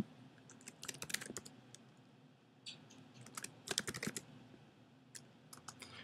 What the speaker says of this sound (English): Just start to type my name.